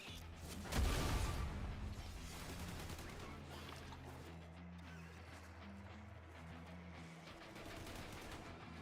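Rapid gunfire in Warframe aimed at spreading growth, a sharp burst near the start settling into sustained shooting over a steady low electronic drone and game music.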